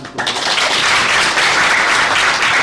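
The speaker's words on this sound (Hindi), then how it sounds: "जोरदार तालियों के साथ" Loud, dense applause from a crowd at a Ramayana quiz competition, steady and sustained throughout with no pauses.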